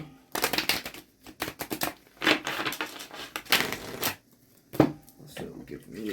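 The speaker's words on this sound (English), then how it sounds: "Let's go ahead and shuffle" Tarot cards are shuffled in quick, crisp riffling bursts and bridged flutters, close and fairly loud, repeating with short pauses over roughly six seconds.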